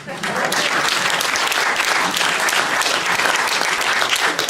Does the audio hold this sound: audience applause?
yes